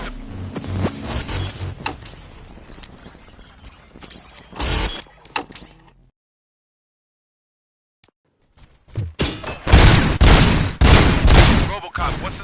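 Gunfire in a Robocop video game: bursts of dense shots, then a few seconds of silence, then a louder, busier barrage close up.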